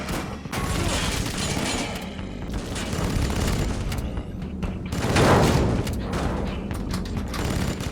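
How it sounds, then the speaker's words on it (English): A Gauss rifle firing in Vivisector: Beast Within, repeated heavy blasts and rapid cracking shots over a rumbling background, with one big surging boom in the middle. "The Gauss rifle may well be my favorite weapon in the game."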